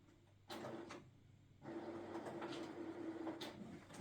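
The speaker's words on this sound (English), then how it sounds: "now I will print out, if my printer allows it," A home printer works through a page in a quiet room, with a soft mechanical whir and feed clicks, then a louder steady churning run punctuated by brief clacks.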